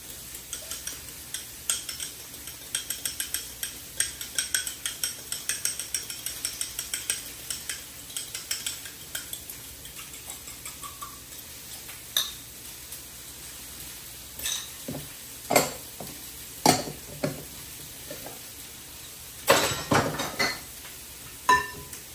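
Spoon stirring beaten eggs into chocolate brownie batter in a bowl, a run of quick light scrapes and clinks that thins into scattered louder knocks against the bowl.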